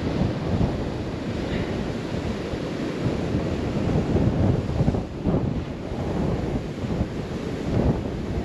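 Strong wind buffets the microphone in a constant roar by the sea at Whitby, with ocean surf rumbling underneath throughout.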